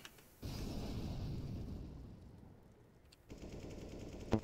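Rapid bursts of rifle gunfire from enemy players in a CSGO match, fairly close and harsh, running almost nonstop with a short lull before firing starts again.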